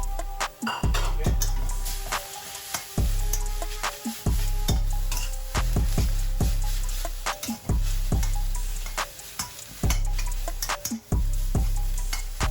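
Maggi noodles stir-fried for curry goreng sizzle loudly and steadily in a hot pan, with repeated scraping and clanking of a utensil against the metal throughout.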